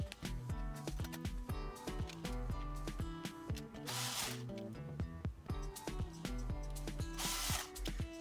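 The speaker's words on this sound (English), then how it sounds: "So this screwdriver is not too strong. It's quite quick." A power screwdriver whirs in repeated short bursts while backing screws out of a Nissan Leaf head unit during car repair work, with busy tonal clatter close by and no talk.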